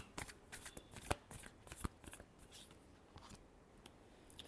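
A deck of tarot cards shuffled up close, quick papery riffles and slaps in bursts that taper off, with a few faint spoken words.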